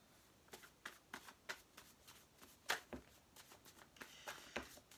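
Tarot cards are shuffled in quiet, faint bursts of papery riffling and flicking, a dozen or so uneven strokes in close succession with no talk.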